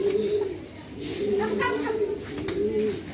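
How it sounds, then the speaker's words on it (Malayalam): Several kinds of pigeons coo repeatedly at a pet station bird enclosure in Mattool, Kannur, soft rolling calls close by over a steady background murmur with some voices in the area. "ഇതവിടെ കണ്ട ഒരുപാട് തരത്തിലുള്ള പ്രാവുകളാണ്"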